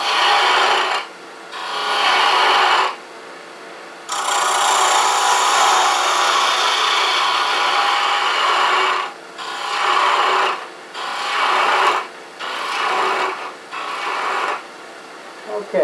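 Wood being turned on a lathe to shape a small point, a loud, close rasping cut from the tool on the spinning workpiece, running in long stretches broken by brief pauses.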